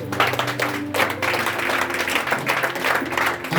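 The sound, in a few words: congregation applauding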